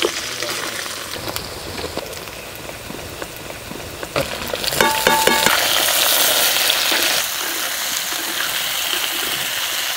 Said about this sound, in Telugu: ఇప్పుడు టమాటాలు, పచ్చిమిర్చి, బెండకాయ ముక్కలు కూడా వేసుకుందాం